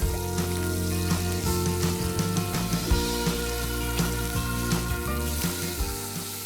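Chicken pieces fry skin side down in a pan, a steady close sizzle with crackling pops throughout and a faint hum beneath.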